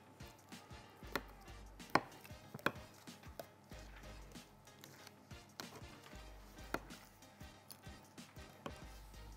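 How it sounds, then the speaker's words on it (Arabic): A knife cuts small slits into a large whole chicken on a board, making sharp, irregular taps and thuds close by, with no voices. "هتفتحوا الفراخ كده فتحات صغيره"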